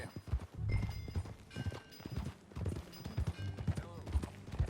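Horse hooves clip-clop steadily while riding in the video game Red Dead Redemption 2, a quick, fairly close rhythmic plodding with a rider's voices talking over it.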